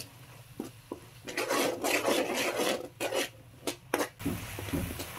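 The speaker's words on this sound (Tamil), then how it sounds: "பச்சை வாசம் போக நல்லா கிளறி விட்டுக்கலாம்" A spoon scrapes and stirs ginger, garlic and shallot paste in a pan with a rough, rasping scrape in quick bursts, fairly quiet and with no talk.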